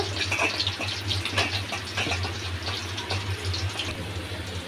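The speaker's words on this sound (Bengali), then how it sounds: "পানিটা ফেলে দেব।" Water pours steadily in a continuous splashing gush as water is drained from a cooking pot after boiling fish, with a low hum underneath.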